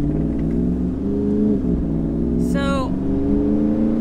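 Jeep Wrangler JLUR idling and rolling over curbs, a low steady engine rumble with a brief squeal or creak midway and someone briefly speaking over it.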